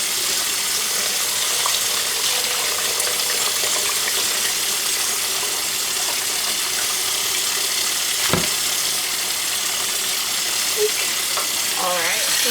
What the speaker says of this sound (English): I'm going directly into some lukewarm water to start rinsing.